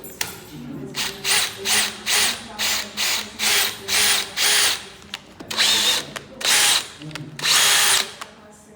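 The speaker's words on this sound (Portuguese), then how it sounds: "Nós vamos realizar aqui a furação guia, para evitar que a madeira ela trinque" Power drill boring a series of pilot holes into a wooden door frame for installing a surface-mounted lock, about a dozen short whining bursts in quick rhythm with brief pauses between, close and fairly loud.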